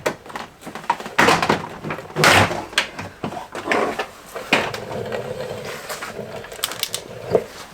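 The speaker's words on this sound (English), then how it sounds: "But let's get this door out. This cover needs to come off." Plastic clips snap and crack as a Chevrolet S10 door panel cover is pried loose, with scraping, creaking and several sharp pops in irregular bursts, close by.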